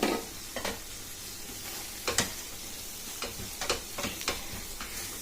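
Crushed peanuts are stirred into a sizzling fenugreek and lentil curry, with a soft, steady frying hiss and a few sharp scraping clicks of the spoon against the pan, close by and without talk.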